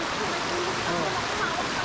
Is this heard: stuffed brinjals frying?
no